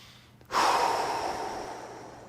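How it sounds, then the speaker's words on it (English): One deep, close inhale during a lower thoracic mobilisation exercise, starting suddenly and easing off slowly as a soft breathy rush with no talk. "And then take a couple breaths"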